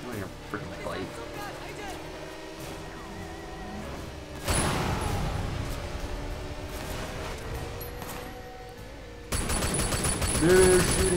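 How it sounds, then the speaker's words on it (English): Enemy gunfire in the Sleeping Dogs video game, bursts of rapid shots that swell louder partway through and again near the end, mixed with game effects and under excited talk. "They're shooting!"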